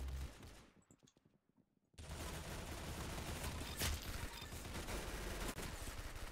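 Dense, continuous gunfire in the Arsenal video game, loud and sustained after a brief near-silent gap, with overlapping shots and little or no speech.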